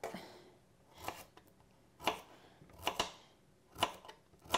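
Carrots being sliced into rings on a board, quiet crisp knife chops arriving one at a time in a slow, fairly even rhythm, about six cuts close by.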